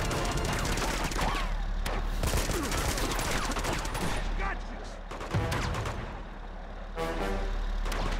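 Gunfire in Uncharted 2: Among Thieves, repeated sharp shots and bursts crackling over a rumbling in-game background, loud and close, with a brief lull near the end before the shooting resumes.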